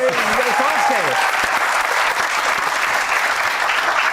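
Studio audience clapping on the comedy talk show Hasna Mana Hai, a dense, continuous wash of applause at steady loudness with a brief tonal musical sting at the start.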